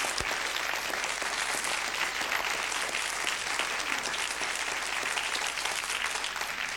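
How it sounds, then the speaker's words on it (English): An indoor audience at a 1980s multi-level marketing presentation breaks into sustained, loud applause, a dense wash of clapping that carries on evenly throughout. "Why don't we give him a round of applause?"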